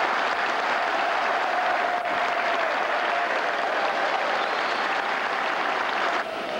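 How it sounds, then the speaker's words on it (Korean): Thunderous applause from a large crowd at a Seoul rally as a speaker takes the stage, a dense, steady roar of clapping with cheering mixed in, sustained throughout before easing slightly at the end. "우레와 같은 박수와 환호가 터져나왔다"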